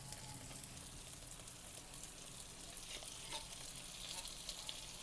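Canned corned beef sizzling and frying in a pan on the stove, a steady, dense crackle of hot oil that runs without a break, with faint stirring clicks now and then.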